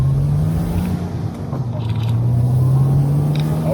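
A manual Porsche sports car engine hums steadily from inside the cabin, its low drone rising slightly in pitch as it pulls along.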